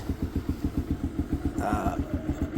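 A Piaggio Fly scooter engine warming up, with a steady, rhythmic putter close by and a brief higher rattle partway through.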